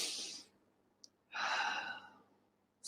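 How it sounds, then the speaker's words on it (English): A deep exhale during a breathing exercise, a soft breathy rush that fades, then after a brief pause a longer, fuller breath lasting about a second, close and quiet. "Inhale, pause, exhale."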